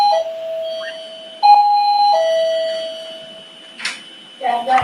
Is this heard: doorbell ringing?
yes